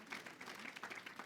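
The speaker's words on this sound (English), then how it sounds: "So let's give God a hand clap for that" A church congregation claps together in a soft, continuous patter of many hands, heard faint and somewhat distant, lasting only a moment.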